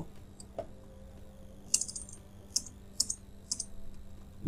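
A computer keyboard is tapped in a short, sparse run of light clicking keystrokes over a faint steady room hum, with no one speaking.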